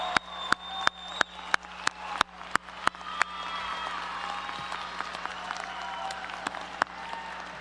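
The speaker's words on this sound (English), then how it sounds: "A big round of applause" Audience at an RTC commencement ceremony applauds graduates: a few sharp, loud claps ring out first, then swell into sustained, steady applause from a large crowd.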